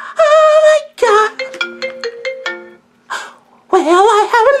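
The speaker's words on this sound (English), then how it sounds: "Well, I have a little phone callie, Wally." A melodic phone ringtone rings out loud and close in a comedic skit, as a bright stepped tune with short pauses between phrases.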